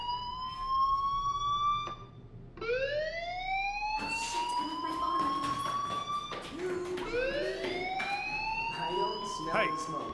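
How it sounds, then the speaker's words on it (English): A fire alarm in the Life is Strange video game wails with repeated rising siren sweeps that keep restarting over several cycles, loud and continuous under a layer of game ambience. "do you hear that fire alarm?"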